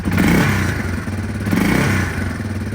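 A Yamaha Warrior 350 ATV engine revs up twice, the throttle opening in two loud, rough surges that drop back between them, close by with rattling clatter.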